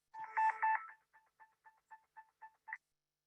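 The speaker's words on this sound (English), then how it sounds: "you could get an alert on your phone that sounds kind of like this." A PulsePoint app alert on a phone sounds close and alone: a few rapid electronic tones, then a string of short, evenly spaced beeps that ends in a sharper final tone.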